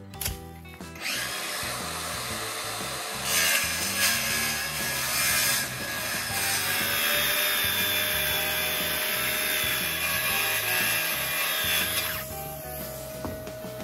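Power saw cutting a knot-free hinoki flooring board to length, a sustained loud whining cut running steadily for over ten seconds with slight shifts in pitch as the blade moves through the wood, no voices.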